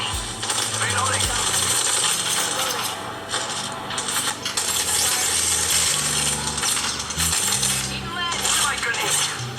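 Apex Legends weapon reloading during gameplay, heard as quick mechanical clicks and clacks over a continuous dense bed of game music and effects with constant sound throughout.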